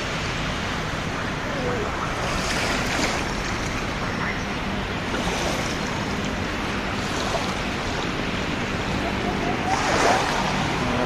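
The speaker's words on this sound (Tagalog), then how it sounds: "dito kami mga ka-idol sa Dolomite Beach" Waves washing in at Dolomite Beach along Roxas Boulevard, Manila, a constant broad surf wash with swells rising every few seconds, a busy crowd murmuring faintly underneath.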